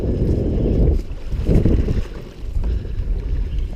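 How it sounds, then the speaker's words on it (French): A boat's motor rumbles steadily and close while a lone angler maneuvers toward a hooked pike, with heavy wind buffeting across the microphone and no talking. "Je vais m'approcher de lui avec le moteur."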